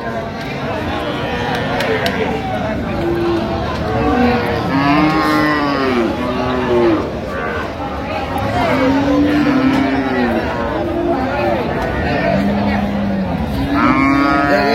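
Cows and calves at a rural cattle market lowing repeatedly, loud and close, with several drawn-out moos overlapping amid a steady crowd murmur and people talking nearby.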